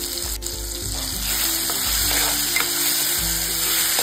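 Green masala paste sizzling in hot oil in a pan for a pea curry, a loud, steady crackle and hiss with occasional stirring scrapes, close up and without talk.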